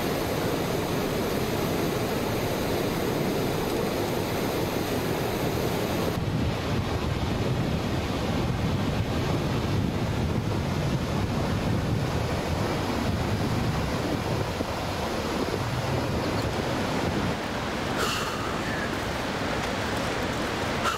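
Waterfall in Yosemite National Park, a steady, loud broadband roar of falling water with heavy wind buffeting on the microphone throughout, no voices.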